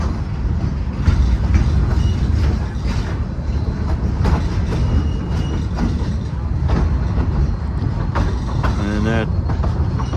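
K36 number 484, a 3-foot narrow gauge steam locomotive on the Cumbres & Toltec Scenic Railroad, arrives near an engine house with a steady low rumble and rail clatter, a brief wheel squeal rising near the end.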